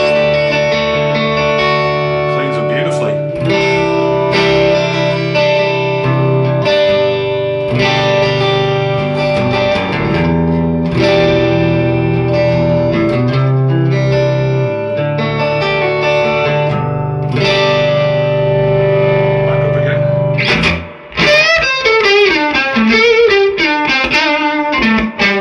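Gibson Limited Edition Les Paul Junior electric guitar played through its single-coil neck pickup, with chords and single notes carrying a warm, sustained tone under chorus and mild distortion effects, then a quick run of picked notes near the end.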